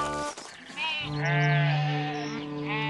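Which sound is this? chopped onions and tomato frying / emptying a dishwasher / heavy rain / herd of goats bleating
herd of goats bleating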